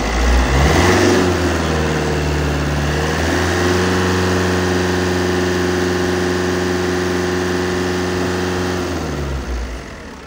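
A Fiat Tipo 1.6 Multijet engine climbs from idle and is held at a steady 2500-3000 rpm, a loud, even hum at close range that eases off slightly at the end.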